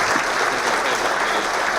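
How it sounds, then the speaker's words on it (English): An audience at an annual PGA section meeting applauds, a loud, dense and continuous roar of clapping from a large room that stays full and even from start to finish. "And now we'll take a round of applause for all of them."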